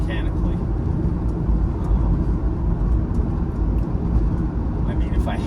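A low-mileage, all-original 1973 Mercedes-Benz 280SE 4.5 heard from inside while driving, with steady engine and road rumble filling the cabin. A voice talks over it throughout.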